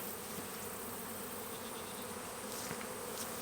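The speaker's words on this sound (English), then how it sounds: "now the tree's on the ground with the bees" A swarm of honeybees hums steadily around a freshly felled tree, a dense, continuous buzz filling the space without pause, with occasional individual bees passing closer.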